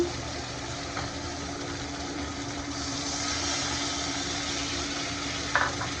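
A steady hiss of spiced water sizzling in a hot pan while cooking chicken bhuna, with a brief stirring scrape near the end.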